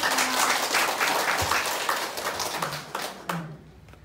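Audience applause at a village PKK gathering in Manulea, greeting the new PKK team leader; broadband clapping fills the room steadily and tapers off near the end, with brief voices underneath.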